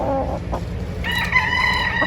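A sweater-line gamefowl stag crows in a single loud, drawn-out call at close range on a farm in Tagaytay, following a few brief clucks, with no talking.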